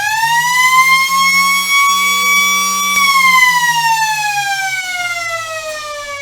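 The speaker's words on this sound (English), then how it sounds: "Final siren at the last home game for the Lions" A loud, sustained siren blares close by at the end of a football match, holding a steady tone before slowly sliding downward in pitch over several seconds.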